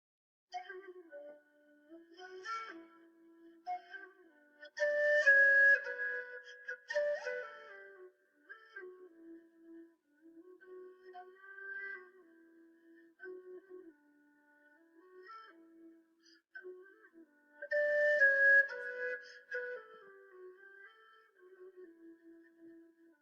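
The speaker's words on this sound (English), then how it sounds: "this video here again is just a gorgeous demonstration of the low whistle" An Irish low whistle plays a slow air alone, soft sustained low notes gliding and ornamented, with breathy gaps between phrases and no talking.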